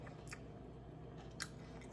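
Quiet crunchy bites into a homemade fried chicken sandwich on a homemade bun with lettuce, tomato and pickles, two or three short crisp crunches close up against near silence.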